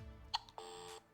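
The electronic toy phone from the Secret Admirer board game gives a short sequence of quiet, clean synthetic beeps: two quick chirps, then a longer tone that stops abruptly, with no voices.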